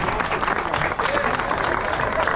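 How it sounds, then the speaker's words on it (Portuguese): A crowd applauds at a no-prep drag racing award ceremony at Tarumã, with steady clapping and cheering that stays under and alongside talk throughout. "Cadê a salva de palmas?"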